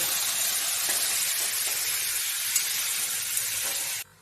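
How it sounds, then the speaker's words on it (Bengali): Chicken pieces fry in a pan for a palang chicken dish, giving a steady, loud broadband sizzle and hiss that holds evenly for about four seconds before dropping away abruptly at the end. "চিকেনটা একটু ভাজা ভাজা করে নিই, তারপরে একটা ঢাকা দিয়ে সেদ্ধ হতে দেবো।"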